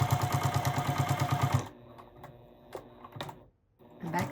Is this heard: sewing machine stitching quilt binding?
yes